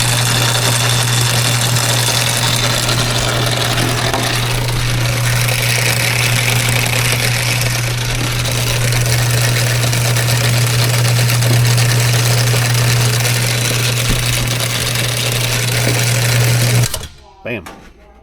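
A Genie commercial garage door opener runs with a loud, steady motor hum and mechanical rattle, continuing unbroken for most of the stretch before it stops abruptly near the end.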